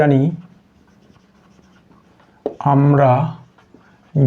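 A pen writes out a math question on simple harmonic motion: soft, faint scratching fills the pause between bursts of a person talking at the start and end.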